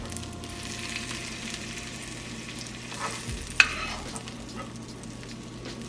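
Mushrooms sizzle steadily in a frying pan, a constant crackling hiss with a single sharp utensil clink partway through; no talking.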